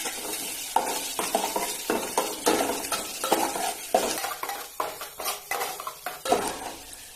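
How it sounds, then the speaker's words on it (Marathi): Onion fries in a ladleful of oil for tempering, giving off a soft sizzle. Repeated metallic stirring and scraping strokes against the pan come through clearly, with no speech. "ह्या ठिकाणी पळीभर तेल घेतलंय. फोडणीसाठी कांदा घेतलाय."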